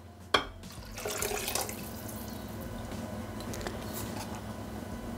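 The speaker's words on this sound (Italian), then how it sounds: "Aggiungere l'acqua." Water pours into a Thermomix (Bimby) food processor bowl after a sharp clunk, settling into a steady, moderately loud splashing stream that continues to the end.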